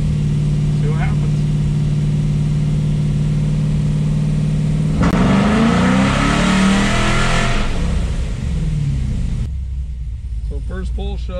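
A cammed LS3 V8 in a fifth-generation Camaro with headers and a cold air intake roars through a dyno pull, a steady loud drone that climbs sharply midway, then drops back to a burbling idle.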